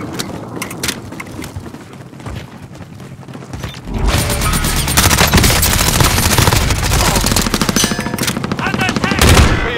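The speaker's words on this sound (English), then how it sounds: "Ah, the nail gun will take care of him." Rapid, loud bursts of automatic nail-gun fire in a shooter video game, growing denser and heavier partway through, with continuous clattering shots and battle noise.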